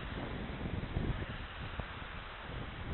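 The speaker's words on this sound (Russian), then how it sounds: "ветерок, конечно, такой" A breeze blowing across a beach in Anapa, heard as steady wind rumble and buffeting against the microphone, with gusty low swells and no talk.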